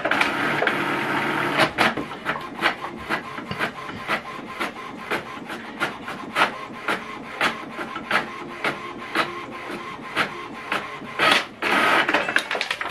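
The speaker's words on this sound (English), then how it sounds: "Okay, the information right now is sending to this printer." An inkjet printer prints a network configuration status report: a steady mechanical whir broken by repeated sharp rhythmic clicks and carriage strokes, loud and close, with no talking.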